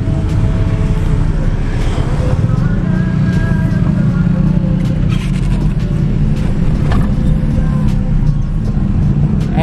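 A 1992 Toyota Corolla Twincam SE Limited driving on a busy road at dusk, with a steady low engine drone and road rumble, nearby traffic passing, and faint background sounds.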